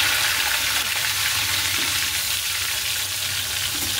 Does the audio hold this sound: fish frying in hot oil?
yes